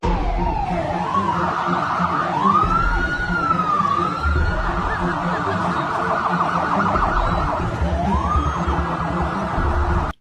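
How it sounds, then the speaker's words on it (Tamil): An ambulance siren wails through a political rally crowd, its rising and falling tone sweeping repeatedly and loud over a dense, constant roar of crowd noise and traffic for the full length. "டிவிகே கட்சி கூட்டத்துக்கு நடுவே வருகின்ற ஆம்புலன்ஸ் தான் அது"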